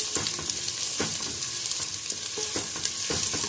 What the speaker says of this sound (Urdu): اب ہمارا پیاز جو ہے وہ لائٹ براؤن ہو رہا ہے